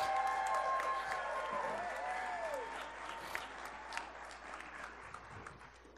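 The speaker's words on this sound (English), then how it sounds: "I'm asking you to give him another big round of applause" An audience at a Kemet in the Desert series event applauds producer Oscar Robertson, steady clapping that starts under fading talk and slowly thins toward the end.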